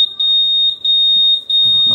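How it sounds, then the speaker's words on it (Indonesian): Alarm system on a Honda Scoopy motorcycle with a keyless remote, sounding as a loud, piercing high electronic tone that pulses in short bursts with brief gaps, close by and alone. "Nah, kita coba sekarang tombol alarm."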